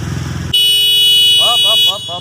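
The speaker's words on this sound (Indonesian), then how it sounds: "Coba tes klakson." A 2021 Suzuki Jimny's horn sounds one loud, close, sustained blast lasting over a second, while a voice talks across its final part.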